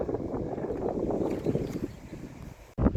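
Wind buffets across Lockerbie golf course as a steady low roar on the microphone, ending in a short, sharper gust.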